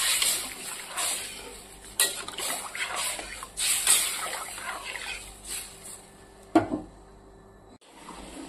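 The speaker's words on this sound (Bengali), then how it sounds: "দিয়ে দিলাম পরিমাণ মতো জল।" Water poured into a cooking pot, an uneven trickling and splashing flow with faint clinks of the pot, ending in a brief knock and quiet.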